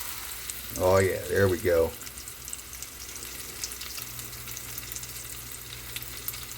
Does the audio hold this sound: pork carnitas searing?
yes